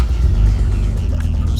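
A WALD Edition Nissan Z32 car is switched on, its engine giving a loud, close, deep rumble that holds steady through the short moment.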